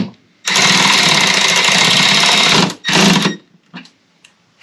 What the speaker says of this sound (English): we're gonna slowly tighten this back down